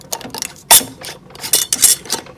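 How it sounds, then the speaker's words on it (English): A metal screw band being twisted onto a home canning jar fitted with a heated lid, giving a run of close, scraping ratchet-like clicks and grinding turns with no talking. "now I'm just putting the heated lid on the jar, and then I'm just going to screw this in"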